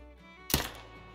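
A single hunting rifle shot cracks out in Call of the Wild, one short sharp report rising sharply from a quiet background and decaying within a fraction of a second.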